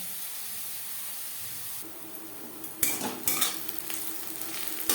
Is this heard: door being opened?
no